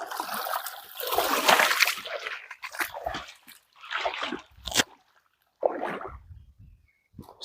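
Water splashing irregularly in a river as a leaf is set afloat, close bursts of splashing and sloshing separated by quiet gaps.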